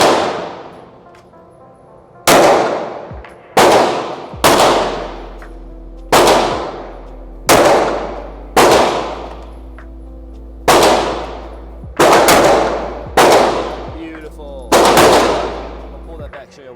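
Handgun shots at a shooting range, fired two-handed: nine loud, sharp single reports, each followed by a decaying ring, spaced roughly one to two seconds apart with a low hum underneath and no talk.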